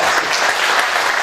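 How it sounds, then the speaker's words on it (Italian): An audience at a Montebelluna cycling club's season presentation bursts into loud, dense applause, a brief wash of many clapping hands. "Applausi."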